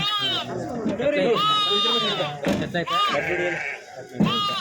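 At the Kadiri sheep and goat market, a lamb bleats loudly and repeatedly up close, its wavering cries rising over the dense chatter of traders and buyers talking nearby.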